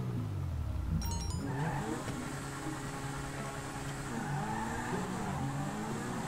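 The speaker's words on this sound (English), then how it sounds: "let me rev it up even harder" Car engine in Just Cause 3 revving hard, starting as a deep roar that climbs into a loud, sustained whine with repeated pitch swells and some skidding.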